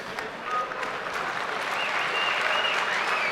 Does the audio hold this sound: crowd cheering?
yes